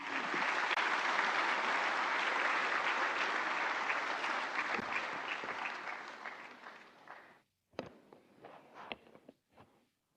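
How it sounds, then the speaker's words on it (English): Audience applause at a government incentive-distribution event in India, dense sustained clapping from a large crowd for about seven seconds, then fading to a few scattered claps. "Let us have A round of applause."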